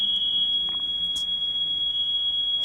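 A building fire alarm sounds a continuous high-pitched electronic tone, steady and unbroken throughout, with faint background noise and no talking.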